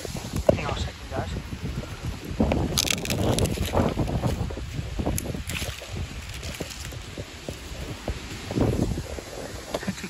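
Gusty wind roars past a tree holding a hunter's stand about 20 feet up, with rustling, creaking and crunching bursts from branches moving, plus breathy microphone buffeting and someone talking intermittently.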